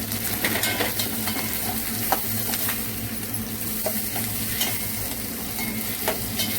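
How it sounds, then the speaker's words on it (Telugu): Onions and curry leaves frying in a pan, giving a dense, steady sizzle close up, with occasional spoon scrapes and taps as they are stirred. "ఇందులో ఆనియన్స్, కరివేపాకు కలిపి వేసుకొని ఫ్రై చేసుకోవాలి"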